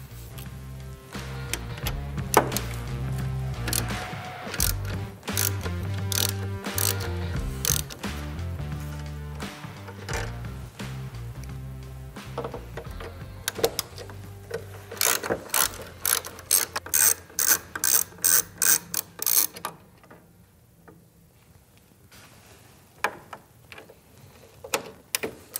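A hand ratchet fitted with a 6mm Allen bit works screws out of an Indian Challenger motorcycle's outer fairing, in bursts of close, crisp rapid clicks separated by brief pauses, ending in a fast run of sharp ticks.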